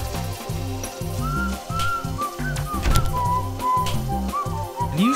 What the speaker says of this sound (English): Can you shut up with the whistling?